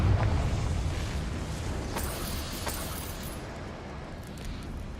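Confringo explosion spell cast in Hogwarts Legacy, a loud booming blast at the start that rumbles and fades over several seconds with a couple of sharp crackles along the way.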